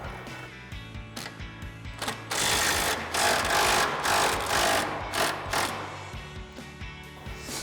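An impact wrench with a 21 mm socket on a swivel adapter loosens bolts beneath a Jeep Wrangler JK. Several sharp rattling bursts of hammering follow a few quieter clicks, close and loud, with short breaks between bursts.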